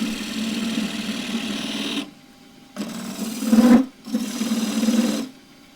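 Wood lathe spinning a roughly 6-inch bowl at 1650 RPM while a 3/4 inch scraper cuts, a steady buzzing rasp that stops and restarts in three bursts with short quiet gaps.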